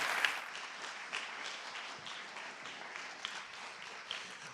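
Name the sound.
conference audience applause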